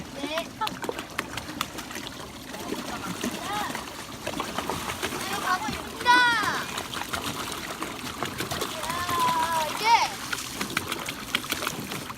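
Water splashing and trickling with a few bursts of splashing as riders finish a water slide into an outdoor pool in Gimpo, under excited children's voices and chatter, the splashes fairly close.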